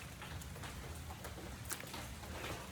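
Rain falling steadily outdoors, a continuous soft patter and hiss with scattered sharper drops hitting nearby surfaces, fairly quiet and without voices.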